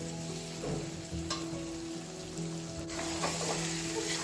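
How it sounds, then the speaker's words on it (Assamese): Jackfruit pickle fries in a pan while it is stirred slowly, giving a steady soft sizzle with faint scraping strokes throughout, and no voices. "এইখিনি লাহে লাহে এনেকৈ লৰাই থাকিম। এনেকৈ কিছু সময় ভাজা হ'বলৈ দিম।"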